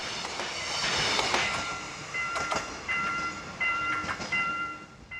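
A train on a mountain coal railway rolls past with rumbling wheels, rhythmic clicking and high metallic squeals, fairly close and continuous with no talking.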